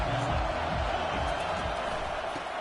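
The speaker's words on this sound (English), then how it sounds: "listen to this crowd roar." Football stadium crowd roaring during a televised game, a dense continuous wash of cheering voices, loud and sustained throughout without a break.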